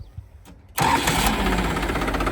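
A tractor engine cranks and fires to life, then settles into a loud, steady, rough idle close by with no talking.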